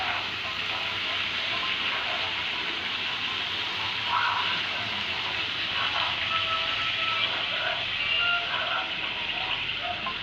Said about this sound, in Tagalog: Lagyan natin ng kaunting tubig.